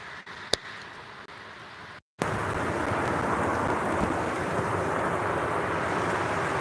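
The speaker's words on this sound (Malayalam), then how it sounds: "ഇവിടെ ഭയങ്കര മഴ" Heavy rain pours outdoors as a dense, steady hiss that switches on abruptly after a short quieter stretch with a few faint knocks, then holds constant and moderately loud.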